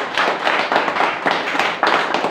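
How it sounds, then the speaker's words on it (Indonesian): Congregation in a church service at a detention facility clapping loudly in unison, rhythmic bursts of strong, close hand claps repeating in waves. "Tepuk tangan dulu sama dia yang keras."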